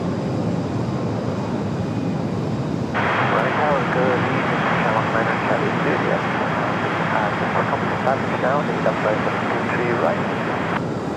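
A Delta airliner from Atlanta at Raleigh Durham airport gives a continuous loud engine roar that swells about three seconds in and holds steady, while voices talk over it.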